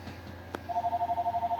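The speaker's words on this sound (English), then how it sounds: "let me get the phone and we will holler at y'all later" A telephone rings with a repeating electronic warble in rapid pulses, steady and fairly loud, right after a single sharp knock, with no one speaking.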